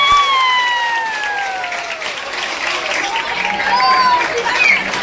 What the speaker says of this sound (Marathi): खंडाळ सरांसाठी एकदा जोरदार टाळ्या वाजवा